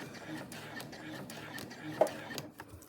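A sewing machine stitching an appliqué onto a bag runs in short, soft mechanical bursts and pauses while a person talks over it.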